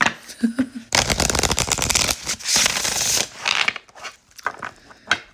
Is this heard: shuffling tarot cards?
yes